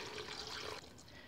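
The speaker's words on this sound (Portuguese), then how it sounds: "Agora eu vou colocar água" Water pouring into a blender jar packed with pitted dried prunes, a soft steady splash and trickle that stops abruptly partway through, fairly faint.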